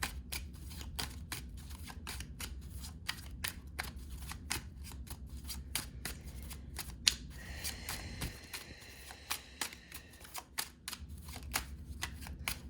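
Tarot cards are handled and shuffled in a quiet room, giving rapid, crisp riffling clicks in bursts, then a softer slide of cards.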